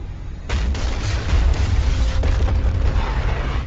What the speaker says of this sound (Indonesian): Ikkaku secara langsung meledakkan pabriknya untuk membunuh Sakata